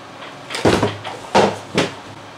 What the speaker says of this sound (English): if I pull this drawer all the way out of here